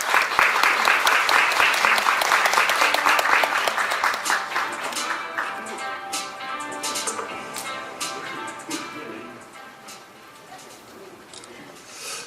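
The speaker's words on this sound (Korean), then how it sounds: "이지스 2016 지오피지컬 AI를 발표해 주실 이지스의 CTO 최형환 부대표님 큰 박수로 모시겠습니다" Conference audience applauding as a company CTO is welcomed on stage, a loud dense burst of many hands clapping that gradually thins and fades over several seconds.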